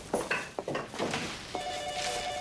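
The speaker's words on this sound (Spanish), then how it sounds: "El teléfono está sonando" A telephone rings in a workplace, a steady electronic tone sounding through the latter half after brief bursts of other activity, moderately loud against a busy background.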